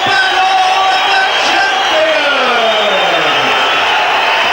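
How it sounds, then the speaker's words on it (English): A packed in-house crowd at a kickboxing event at the Sydney Convention Centre roars and cheers steadily, with loud, sustained shouting and whooping that fills the whole stretch without pause. "the fantastic in-house crowd here at the Sydney Convention Centre"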